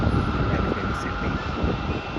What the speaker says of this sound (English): that is a Qantas Boeing 737-838, and that flight takes approximately an hour, and that is we're getting ready to depart now.